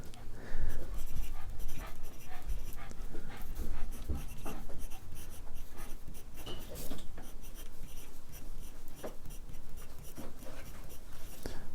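Steady scratching of a Hugo Boss fountain pen's medium steel nib moving across paper, close and continuous, with short pauses between strokes and faint room noise behind.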